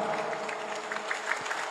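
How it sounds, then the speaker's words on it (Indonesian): An audience applauds the santri of Sinar Rasa at a manaqib gathering, a brief, soft patter of clapping over a hum of crowd noise. "Sok tepuk tangan buat santri Sinar Rasa lah."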